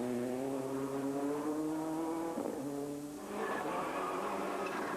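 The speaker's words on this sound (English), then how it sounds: "Roger Duckworth sliding the car around" A rally car sliding on a stage of the 2004 Manx National Rally, engine revving hard with rising pitch, a brief dip between gear changes, then pulling away loudly.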